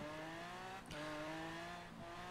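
An AMC Gremlin X fitted with custom exhaust pipes in Forza Horizon, its engine droning at a steady pitch with a brief dip and recovery, loud and close, with no talk.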